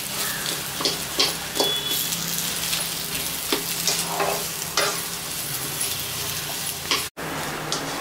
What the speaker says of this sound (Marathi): तुपावर चांगला भाजून घ्यायचा आहे